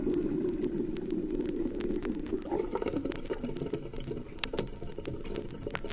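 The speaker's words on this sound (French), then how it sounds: "Les gargouillis des tuyauteries." Gurgling, bubbling water in building plumbing pipes, a steady close patter of small liquid gurgles with scattered clicks, continuous and fairly loud throughout with no voices.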